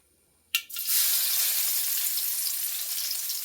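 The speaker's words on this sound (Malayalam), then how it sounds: "കടുക് പൊട്ടിക്കഴിഞ്ഞു ഇനി ഉള്ളിയിടാണ്" Onions dropped into hot coconut oil after mustard seeds have popped, starting with a sharp burst and settling into a loud, steady, bright sizzle that holds without a break.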